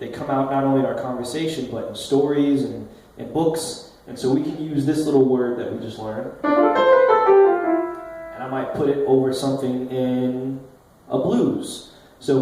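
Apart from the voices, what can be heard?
No everyday noise stands out behind the speech.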